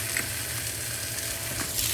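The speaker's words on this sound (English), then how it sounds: "And I'm just searing any sides that did not get seared." Chicken for fajitas searing in a very hot pan of oil, giving a steady close sizzle and crackle throughout with faint clinks of a utensil.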